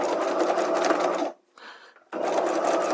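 A close, loud sewing machine stitches horsehair braid onto a hem in a fast, even burst, pauses briefly for a short back-tack, then resumes at full speed.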